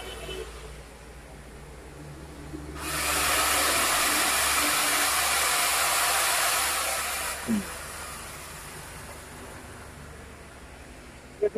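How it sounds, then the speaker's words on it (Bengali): Electric chainsaw for cutting trees, 16-inch bar, whirring steadily for about four seconds before winding down, with a quieter room before and after and a couple of clicks at the end. "গাছ কাটার মেশিন। গাছ কাটার। দেখি একটু চালান তো।"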